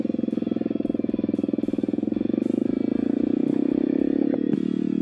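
A motorcycle rides along, heard from inside a NEXX X.WED2 adventure helmet, with a loud, close, steady engine drone that rises slightly in pitch, plus wind buffeting and a few clatters.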